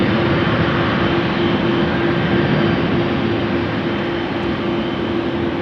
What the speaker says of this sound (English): That is an A330 that just turned towards us and now sideways, so that we picked up the volume